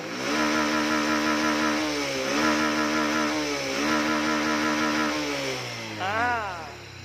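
Honda Wave 110i motorcycle engine running after repair work, a close, buzzing idle with a rapid regular beat that rises and falls through several short revs, climbing sharply near the end before settling back.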